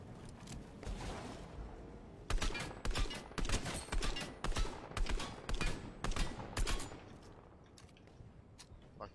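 Video game gunfire cracks out as a run of sharp, evenly spaced shots, fairly close and moderately loud, then trails off near the end with no talking.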